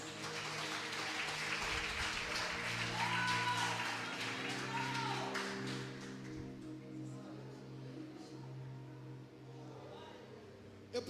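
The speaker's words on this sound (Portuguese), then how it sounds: "Você pode aplaudir a Jesus, irmão?" Evangelical church congregation at a service applauding, a soft wash of clapping and crowd noise that swells early and slowly fades beneath lingering music and ambient sound.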